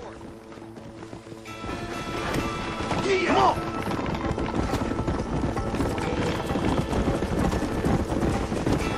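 Horses gallop in Red Dead Redemption, a steady rush of clip-clop hoofbeats with rushing ambience, while voices shout briefly over the riding.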